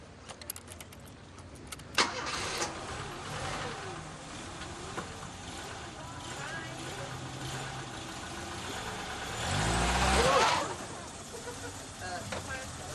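A car engine turns over and the vehicle pulls away in a British street drama scene. The engine swells loudly near the end, beneath ongoing conversation.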